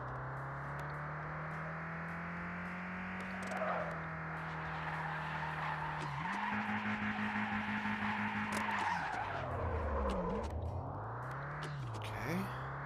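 Racing car in the VR game Vspeedway drifts with sustained tire skids and a droning engine whose pitch rises and falls through the slides, continuous and close.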